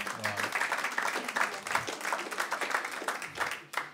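Studio audience at a comedy club breaks into clapping and applause, steady and dense throughout before tapering off near the end, with a brief voice at the very start.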